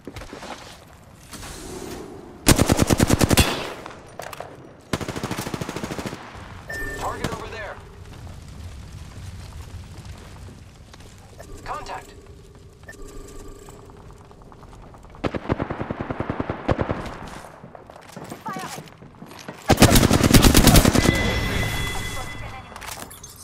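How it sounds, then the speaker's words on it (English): Gunfire in the Apex Legends video game, bursts of rapid automatic shots and heavy blasts in clusters, loud and near, separated by quieter stretches with scattered in-game sounds. "The enemies are shooting at me."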